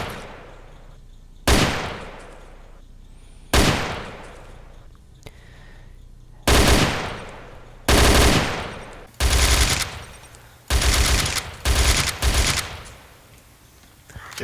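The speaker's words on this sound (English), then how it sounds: "You're just gonna shoot him with a sniper rifle and machine gun." Gunfire in a video game: sharp, loud sniper-rifle shots and short machine-gun bursts with sparse cracks early and clustered bursts later, no talking.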